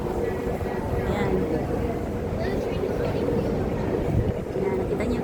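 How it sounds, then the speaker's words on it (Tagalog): An MRT train on the Downtown Line pulls into a station. It makes a broad, steady rumble with moderate loudness, and people talk over it throughout. "Parating na guys yung ating MRT."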